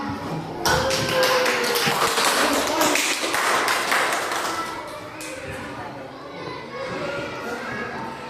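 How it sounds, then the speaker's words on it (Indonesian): Audience applause for Mbak Ana at a gathering, a burst of many hands clapping in quick irregular taps that swells early, then thins and fades into scattered claps beneath background chatter and children's voices. "Tepuk tangannya untuk Mbak Ana dulu."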